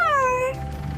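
A single cat meow, clear and close, with a bright rising-then-falling tone lasting about half a second before fading into quiet.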